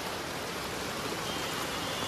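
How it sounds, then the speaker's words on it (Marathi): Heavy rain driven by wind in Mumbai, a dense, even roar of rainfall with no pauses, steady and fairly close throughout. "जोराचा पाऊस आहे, वारा पण आहे तेवढाच"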